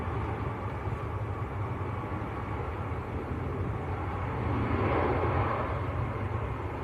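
A TUI airliner bound for Banjul, Gambia, flies past near Manchester Airport, a distant broad roar that swells slightly partway through, with no voices.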